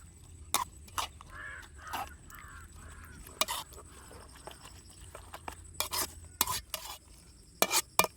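Egg is stirred into a cooked chicken mixture in a pan, with a series of sharp utensil scrapes and clinks against the pan over a faint sizzle, irregular and close by.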